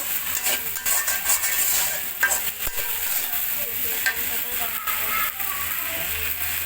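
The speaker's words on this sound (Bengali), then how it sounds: "এখন আমি রসুন আনা আস্ত রসুনগুলো দিয়ে দিলাম" Whole garlic cloves frying in hot oil with dried fish give a continuous bright sizzle, broken by irregular scraping and clicking of a spatula against the pan, with some faint talking underneath.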